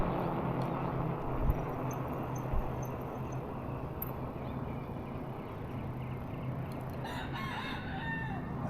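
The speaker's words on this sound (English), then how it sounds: "Where's them roosters?" Roosters crow faintly in the distance near the end, a short rising call over a steady rush of wind and road noise from an eBike commute.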